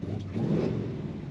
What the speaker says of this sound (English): Nice deep exhaust note.